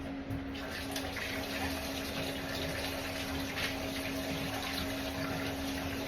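Water runs steadily onto an 18-inch curly wig, producing an even, continuous gushing hiss with a faint mechanical hum underneath and no breaks.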